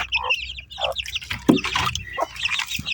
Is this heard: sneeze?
no